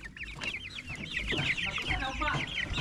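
Many month-old broiler chickens cluck and chatter close by in a busy, overlapping flock, with rapid repeated clucks throughout.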